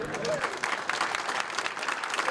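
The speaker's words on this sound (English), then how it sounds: "Tom Hannafin receives a standing ovation from the crowd" A crowd at a mayor's breakfast gives a standing ovation to Tom Hannafin, former mayor elected in 1988, with steady, dense applause filling the room throughout, some voices mixed into the clapping.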